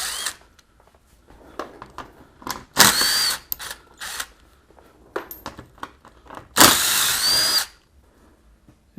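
Power tool whirring in several short bursts as it backs out 10mm bolts from the skid plate under a 2002-2006 MINI Cooper, with ratcheting clicks and small metal handling noises between bursts, close and loud.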